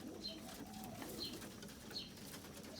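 Young racing pigeons coo softly inside their loft after returning from a training release, several low repeated calls over a faint rustling background.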